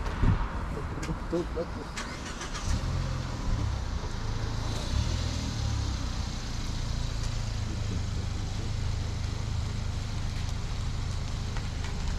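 A car backing up slowly with a towed caravan hitched behind, its engine a steady low rumble close by throughout, with road and traffic noise around it and people talking nearby.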